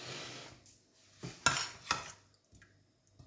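Zucchini pieces are tipped into an oven dish, with a few scattered clinks and soft knocks of utensils against the dish, quiet and close, in a home kitchen.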